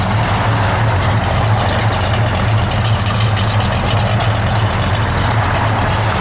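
A 1970 Plymouth Duster engine idles steadily, a loud, continuous low rumble with an even throb that holds throughout, with no voices over it.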